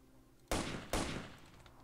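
Two sharp gunshots about half a second apart ring out in the video game Stalker Lost Alpha, each a loud broadband crack with a short decaying tail, and no voices are present.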